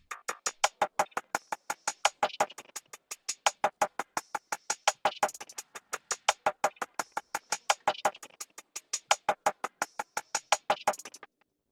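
A percussion loop run through roar distortion and delay, with dense, gritty hits and echoing repeats filling the gaps into a busier, rougher rhythm than a plain loop, with no talking.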